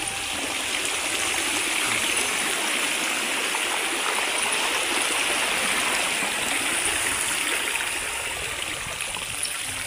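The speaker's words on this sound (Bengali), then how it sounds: "দেখো এখনো চৌকা মাঠ দিয়ে জল নামছে" Floodwater rushing across a flooded paddy field, a continuous broad roar of flowing water at steady loudness throughout, fairly close and without talk.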